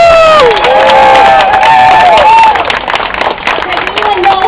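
An outdoor crowd at a summer sand-sculpture event cheers and shouts loudly, with scattered clapping and excited high voices that fade somewhat toward the end.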